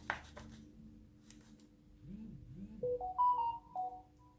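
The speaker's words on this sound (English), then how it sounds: "that'll be my phone." A phone ringtone plays a short rising series of clear electronic tones, fairly faint and near, following a few soft paper-handling rustles during envelope crafting.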